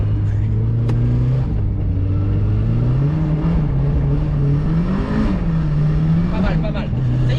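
BMW M2 with 750 hp drifting on the Lohéac circuit, its engine droning steadily and rising in pitch as it accelerates, loud throughout, with people talking over it.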